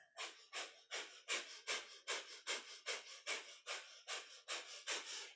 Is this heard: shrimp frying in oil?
no